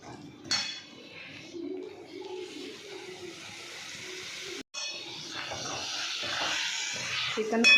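Chicken pieces frying in a pan for a home-cooked chicken rassa curry, giving a steady close sizzle and hiss with occasional clinks of a utensil against the pan, and a voice faintly in the background.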